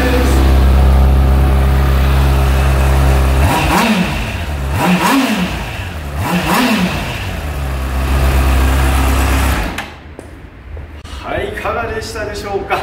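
A Honda CBR600RR PC40 supersport motorcycle in Konica Minolta special-edition colours revs loudly up close, steady high revving with a few rising and falling blips, then drops away as a voice talks over the end.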